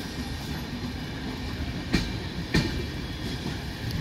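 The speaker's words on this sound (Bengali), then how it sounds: "down Vishwabharati intercity express Howrah railway junction अभिमुखे जाच्छे" The Down Biswabharati Intercity Express, also called the Howrah–Rampurhat Express, heading toward Howrah Junction, gives a steady low rumble with two sharp clanks, alone and without voices.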